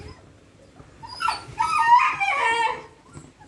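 A Kanni puppy, a male of the red-eyed type, whimpers and yips close by in a short high-pitched run of whines after a quiet start.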